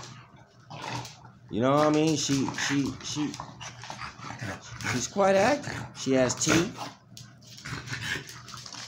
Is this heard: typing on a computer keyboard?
no